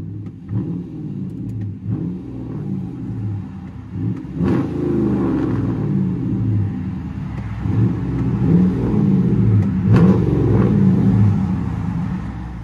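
A 2010 Chrysler 300C with a 5.7L HEMI V8 and straight-piped true dual exhaust revs repeatedly, a loud, deep, rumbling blare swelling and falling in several throttle blips over a steady idle.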